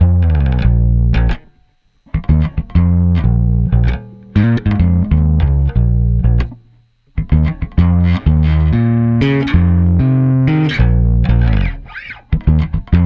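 Bass guitar run through a compressor stacked into a saturation pedal gives a gritty, driven tone as loud riff phrases repeat with brief pauses, up close and free of talk.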